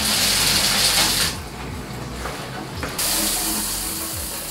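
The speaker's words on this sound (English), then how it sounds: "So I'm actually run the water and show you guys what the bottom part looks like." Shower water runs steadily through an AquaBliss heavy duty shower filter into a tub, a loud continuous hissing gush that dips briefly in the middle and then resumes at full strength.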